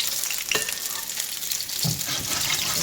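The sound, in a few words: Jamaican saltfish fritters frying in oil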